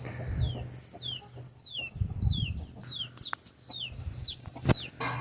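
Aseel (Abras) roosters and double-body hens on a poultry farm give a run of repeated short chirping calls over low farmyard rumble, with a few sharp knocks, moderately close and steady throughout.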